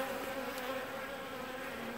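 Honeybees balling a rejected queen make a close, steady buzzing drone, a continuous hum of many wings with slight wavering and no voices.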